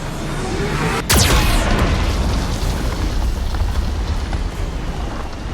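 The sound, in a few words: Geth cannon firing explosions in video game Mass Effect 2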